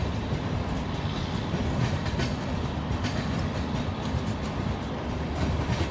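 A WAP7 electric locomotive pulling the Paschim Express on a Himachal route in Trainz Simulator gives a steady, loud rolling rumble with faint clickety-clack, unbroken from start to finish.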